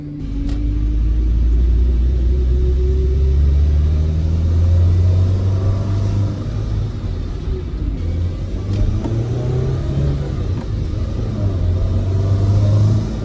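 A TRD Toyota Celica engine idles steadily at its first start-up, a loud, continuous low rumble with slight rises in revs, running alone throughout with no talk.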